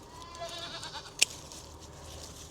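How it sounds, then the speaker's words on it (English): Baby goats bleating somewhere on a small farm during morning garden chores, heard faintly and briefly among low background noise with one sharp click partway through. "Goats are crying for more tree, of course."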